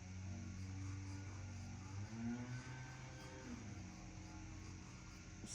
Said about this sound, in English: Sorry if you can hear the lawnmower in the background.